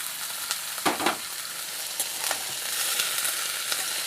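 Onions with chopped and whole garlic cloves frying in a pan for chicken curry, a steady close sizzle with a few scraping stirs of a spatula, no voices.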